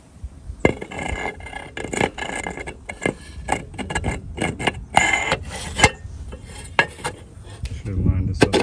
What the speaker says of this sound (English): Let's put the lid back on.